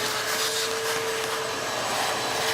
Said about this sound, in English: Let's vacuum this out and see what it is.